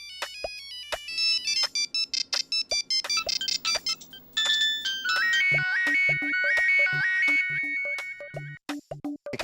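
Several phones ring at once, overlapping electronic ringtones and beeping tones that pile into a loud, jangling cacophony with no speech.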